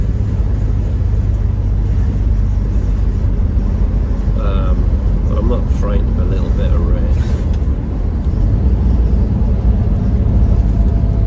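A Triumph Stag classic car drives in the rain, its engine and road noise forming a steady low rumble throughout while someone talks over it.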